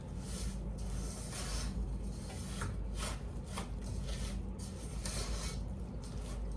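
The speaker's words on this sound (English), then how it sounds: "we're going to mix this up, then we're going to take it over to the heat. Get it mixed up really good here." A spoon steadily rubs and scrapes through peanut brittle mixture in a pot before it goes on the heat, giving a continuous close gritty rasp with irregular stirring strokes throughout.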